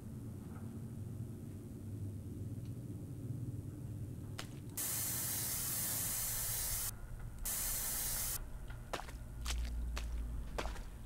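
Spray can hissing in a video game, long loud bursts of hiss cutting in and out, with scattered sharp clicks and footsteps over a low rumbling ambience.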